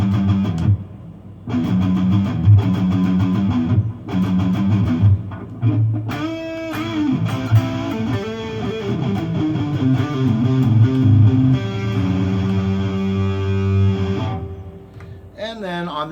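A Gibson Les Paul Traditional electric guitar on the middle pickup position, blending both pickups, plays loud, sustained overdriven chords and riffs with brief pauses between phrases.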